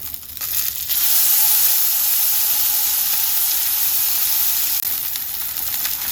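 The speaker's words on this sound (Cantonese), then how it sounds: "魚皮呢度都煎咗1分鐘啦，咁我哋煎兩邊咯喎。" A salmon fillet pan-fries in hot oil with a continuous loud, bright sizzle and hiss, close up, with small crackles and a brief scrape as it cooks.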